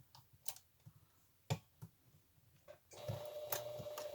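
A sewing machine stitching a seam on a face mask with no ear loops: a few quiet clicks and taps, then a steady, close mechanical whir from about three seconds in.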